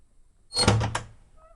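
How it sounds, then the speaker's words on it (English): A door opens in the audio game Blind Quest, a single short wooden thunk with a brief creak, alone and close. "Door."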